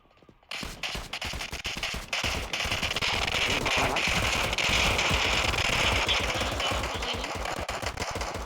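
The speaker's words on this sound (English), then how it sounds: "Gunshot" Rapid bursts of gunfire from a GTA roleplay game with a police gun shop setting, a dense run of loud crackling shots that goes on almost without a break, close and unbroken, with no talk over it.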